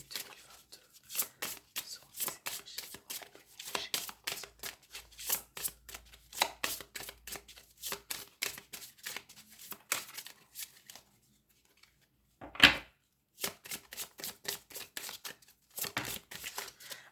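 Tarot cards being shuffled by hand in a quiet room, repeated quick papery riffles and flicks in bursts, with a short pause and a sharper snap midway; a voice speaks at times.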